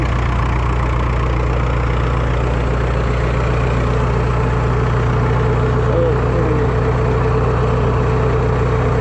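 A Super W6TA tractor's engine, running on gasoline, runs steadily at idle, a loud low rumble throughout with no breaks.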